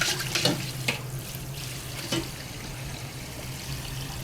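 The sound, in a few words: water running in the kitchen sink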